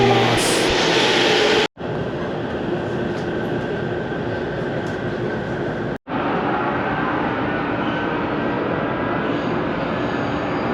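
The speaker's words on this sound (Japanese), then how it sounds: "武蔵野線の電車がホームに入線してきましたので、こちらの電車に乗車したいと思います。" A Musashino Line electric train pulls into a station platform with a continuous rumbling, rolling drone, cut by two brief breaks in the sound.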